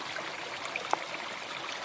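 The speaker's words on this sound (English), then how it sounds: "Cute little stream" A cute little stream in a flowery meadow on the Pacific Crest Trail gives off a faint, steady trickle and soft burble, quiet and continuous with no voices.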